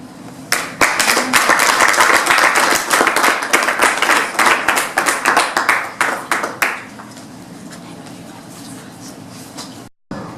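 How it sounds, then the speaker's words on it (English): An awards-ceremony audience claps for several seconds, a dense burst of applause that thins into scattered individual claps before fading out. "give everybody who has been considered a big round of applause"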